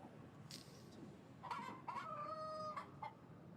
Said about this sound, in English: It's a black rooster.